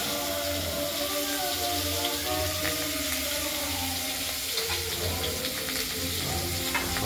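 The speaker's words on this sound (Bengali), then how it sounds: "মাছগুলোকে আমরা নুন হলুদ মাখিয়ে কড়াইতে তেলে ভেজে নেব।" Pieces of catla fish rubbed with salt and turmeric fry in hot oil in a wok, giving a steady bubbling sizzle with faint crackles, close and continuous without speech.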